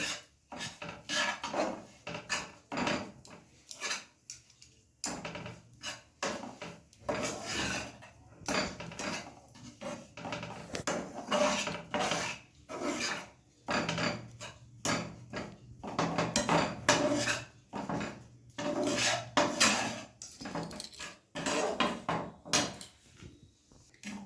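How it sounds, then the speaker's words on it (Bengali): Sesame powder is stirred and fried in ghee in a pan for sesame mithai. A spoon scrapes and clatters against the pan in a long, busy, uneven rhythm, close and moderately loud, with no talking. "এবার ভালোভাবে ঘিয়ের সঙ্গে আমি ভেজে নেব।"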